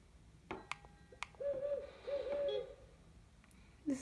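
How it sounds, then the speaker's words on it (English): An owl hoots a few times at night, moderately close, with a couple of sharp clicks and knocks before the hoots and quiet gaps between them, and no one talking. "This is an owl, isn't it?"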